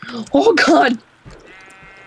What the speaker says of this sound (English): We're trying to get a sheep